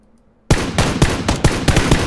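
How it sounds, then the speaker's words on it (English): Loud bursts of gunfire in the video game PUBG crack out in a rapid, uneven series of sharp shots, close and punchy, with no talking. "Now I hear some gunfire"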